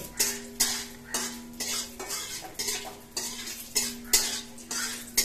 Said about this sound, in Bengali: বাঁধাকপিগুলো দিয়ে দিই, শুকানো বাঁধাকপিগুলো